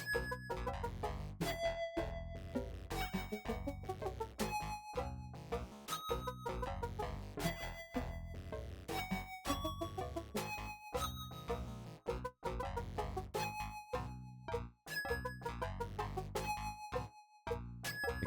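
Sega Genesis game Slaughter Sport playing continuous synthesized chiptune music with punchy percussion hits and bright melodic tones, steady and loud throughout with no talking.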